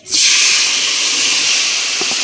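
Mustard-cumin spice paste hits the hot oil left from frying fish for a fish curry and bursts into a loud, sudden sizzle. It settles into a steady hiss for a couple of seconds.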